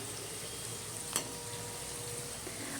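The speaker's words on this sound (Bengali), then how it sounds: "আরও 5 মিনিটের জন্য আমরা ভেজে নিচ্ছি।" Spiny gourd (kakrol) slices fry in hot oil for chips with a soft, steady sizzle and hiss, quiet and even, with one brief clink partway through.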